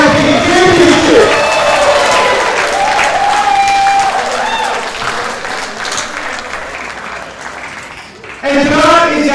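Wrestling crowd at a Newcastle Pro Wrestling show applauding steadily in a big round of clapping and cheering, with a brief dip near the end before the applause swells again.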